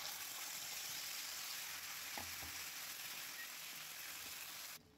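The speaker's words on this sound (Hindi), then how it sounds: "अब इसमें जीरा डाल देते हैं, तेज पत्ता डाल देंगे, अच्छे से तड़क जाए" Cumin seeds and bay leaf sizzling in hot desi ghee, a steady bright crackling hiss with a couple of soft taps, the sound dropping away abruptly near the end.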